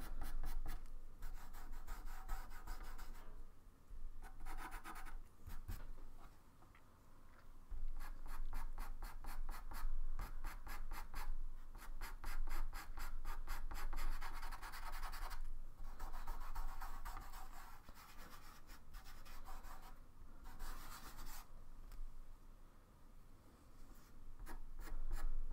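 Pastel stick scratching across paper while a fox is sketched, a close, rhythmic run of short dry strokes in quick bursts with brief pauses, no voice over it.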